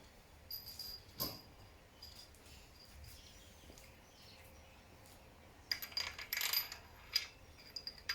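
Metal bolts for a Ford Essex engine's bottom end are picked up during assembly on a quiet bench, giving a few faint, sparse clinks and a brief cluster of small metallic chinks.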